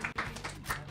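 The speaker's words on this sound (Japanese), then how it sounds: "アグレッシブに拍手していこう、みんなで。" Brief burst of studio applause on a Japanese radio show, a few scattered claps in quick succession, close and crisp.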